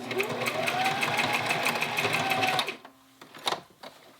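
A sewing machine stitching a kids' hoodie runs in a steady close rapid whir for under three seconds, then stops, followed by a few sharp clicks and handling noises of the fabric.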